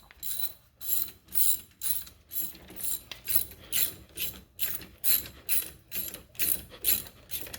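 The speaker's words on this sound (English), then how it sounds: "So now we're going to tighten these two bolts up." A ratchet tightening brake caliper bolts on a Mazda CX9, fast rhythmic clicking in repeated bursts of strokes, close and clear with short pauses between.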